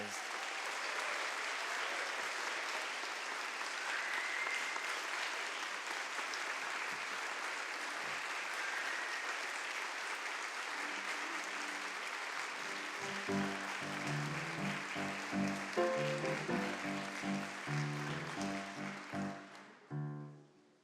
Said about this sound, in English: So can we give Laura a round of applause?